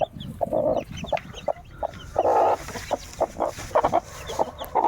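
A hen clucks in short repeated bursts close by, with faint peeping from newly hatched chicks scattered around her.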